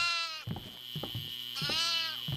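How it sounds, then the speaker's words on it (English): Goats bleat in the horror video game Devour, with two long wavering cries at the start and near the end and shorter bleats and bursts between them, all loud and close. "I don't know how to grab these goats"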